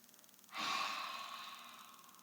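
A single slow inhalation during a Pilates exercise, a breathy hiss starting half a second in and holding steady, close and fairly soft, with no talking over it.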